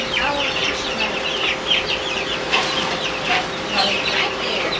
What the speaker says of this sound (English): Watch out, chicken.